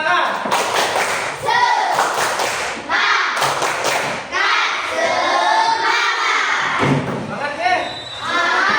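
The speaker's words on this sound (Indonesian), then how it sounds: "Tepuk semangat." A classroom of students does the rhythmic 'tepuk semangat' cheer, with bursts of clapping and thumps in a patterned beat between loud group chanting voices.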